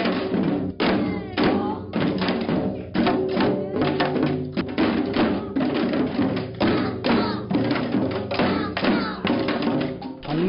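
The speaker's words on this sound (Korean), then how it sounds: "아이들이 제 몸 크기만한 장구를 앞에 두고 어설프지만 열심히 장단을 맞춥니다" Children in a winter-vacation class at the Bangbae-bondong community center play janggu, Korean traditional hourglass drums, in unison, a dense steady stream of loud rhythmic thumps and slaps with brief pauses between phrases.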